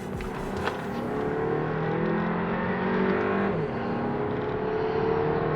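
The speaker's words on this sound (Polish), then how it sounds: "Uwaga, redukcja na dwójkę." A nearly 30-year-old car's engine revs up loudly and close as the driver downshifts into second gear, with a steady droning roar that shifts pitch partway through.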